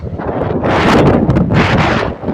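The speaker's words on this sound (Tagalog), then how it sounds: "medyo iba na yung hangin" Steady wind buffeting the microphone, a rough broadband rush that swells and stays loud throughout, with no voices.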